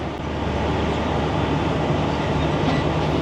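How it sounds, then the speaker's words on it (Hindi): Zikria Express train heard at Ghotki railway station, with a steady, loud rumble of rolling cars and rail noise running continuously throughout, no talking. "इस वक्त हम खड़े हुए हैं घोटकी रेलवे स्टेशन पर"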